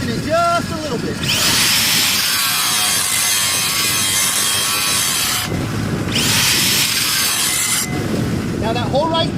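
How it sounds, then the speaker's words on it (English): Angle grinder thinning down a steel weld bead, a loud, harsh grinding screech that runs for several seconds, stops briefly, then bites in again, with short spoken remarks between the passes. "you're going to need to apply the grinder and thin it out just a little bit"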